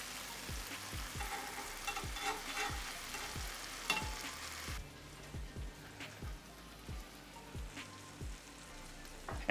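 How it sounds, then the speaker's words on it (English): Steady sizzling and frying crackle from a pan cooking vegan cheesesteak filling, with rhythmic scraping or stirring strokes repeating throughout; close and moderately loud, no talking. "look at that sizzle"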